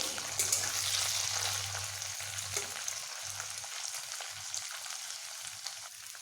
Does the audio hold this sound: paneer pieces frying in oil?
yes